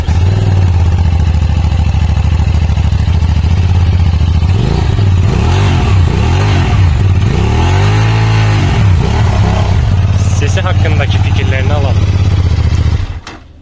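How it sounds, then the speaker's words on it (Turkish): A QJ RS550 motorcycle engine idles with a deep, loud rumble, then revs up and down several times in rising and falling swells before cutting off, outdoors. "Ben en çok da MT7'nin sesine benzetiyorum motorun sesini."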